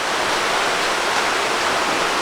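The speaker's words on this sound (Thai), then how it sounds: "ทางนี้ก็จะเป็นวิวนะครับ วิวน้ำตกด้านล่างนี่" Steady roar of a waterfall below a viewpoint at Mae Kampong in Chiang Mai, a continuous broadband rush of falling water heard alone and at a constant level for the whole stretch.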